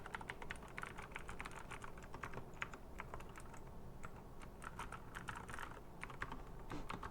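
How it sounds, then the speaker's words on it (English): Continuous rapid key presses on a computer keyboard, dense steady clicking throughout at low level, close and without voices. "Pressing every single button on the keyboard"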